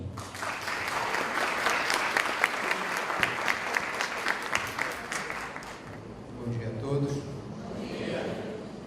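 Audience applause rising to welcome a speaker at a Portuguese-language talk on contemporary distance-learning technology, dense steady clapping that thins toward the end as a voice begins over it.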